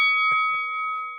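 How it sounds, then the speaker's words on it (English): A bell struck once to open a boxing news show segment, a clear sustained ring with steady overtones that lingers through the moment, with a couple of faint soft thumps underneath and no voices. "and I'll hit the bell."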